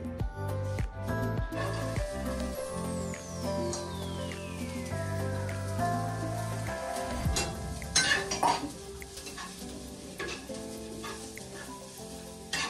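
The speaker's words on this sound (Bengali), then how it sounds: "পেঁয়াজগুলো রয়েছে এগুলোকে সামান্য ভাজা ভাজা করে নিচ্ছি" Soft sizzling of onions frying in a pan with occasional clinks of a utensil stirring, mixed with faint background music.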